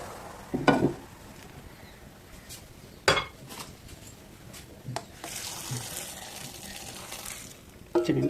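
Melted jaggery syrup being poured through a strainer in a kitchen, with metal utensils clinking against a pot, a few sharp clanks and liquid pouring and splashing in between, close and moderately loud with no talking.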